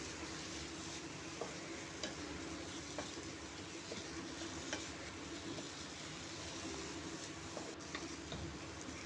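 Taro leaves cooked with hilsa fish are stirred continuously in a pan, giving a low steady sizzle with soft scraping ticks at irregular intervals, no voices.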